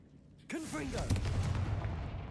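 A Confringo fire spell blasts in Hogwarts Legacy, a sudden loud explosive burst followed by a crackling, rumbling roar that holds steady for about two seconds, with a voice sliding in just as it begins.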